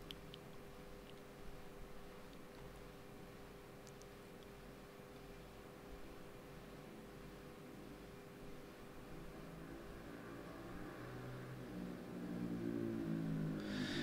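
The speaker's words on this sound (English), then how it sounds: "There's a loud motorbike on its way past the house." A loud motorbike engine passing a house drones steadily for a while, then swells louder toward the end as it draws nearer, with no voices.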